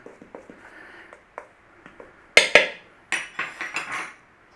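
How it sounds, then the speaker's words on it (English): A spoon stirring flour and baking powder in a bowl gives a series of light clinks and scrapes against the bowl, a few sharper knocks partway through, close and alone without speech. "So just give that a little stir around."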